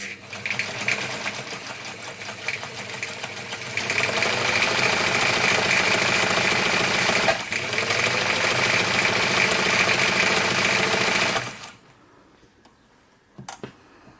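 A Singer 190 sewing machine stitches in a smooth, rapid mechanical rattle that runs steadily and close for most of the clip, then stops abruptly, leaving near silence and a couple of faint clicks.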